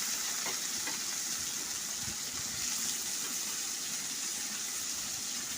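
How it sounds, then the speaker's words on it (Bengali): Koi fish (climbing perch), coated raw in spices, fry in hot oil with a soft, continuous crackling sizzle that stays fairly faint and even, with no talk over it. "এবার আমি এই তেলের মধ্যে মাছগুলিকে দিয়ে দিচ্ছি।"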